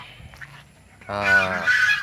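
Loud, harmonic fowl calls suddenly burst out after a quiet moment, a cluster of honking, gobbling turkey cries close by.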